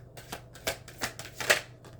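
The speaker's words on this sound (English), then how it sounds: "I'll pull a couple oracle cards." Oracle cards are pulled from a deck in a series of quick, close papery flicks and slides, about five or six in two seconds, in a quiet room with no talk.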